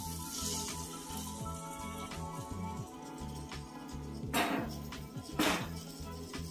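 Small paneer pieces frying in a masala and ghee mixture for paneer bhurji, a steady close sizzle with two louder bursts of spitting and stirring near the end, no voices.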